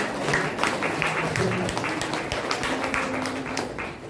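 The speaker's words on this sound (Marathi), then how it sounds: "आपण सगळ्यांनी टाळ्या वाजवून" Audience applause at a Dr. Babasaheb Ambedkar birth anniversary gathering: a dense, sustained patter of many hands clapping, fairly close and steady, easing slightly toward the end.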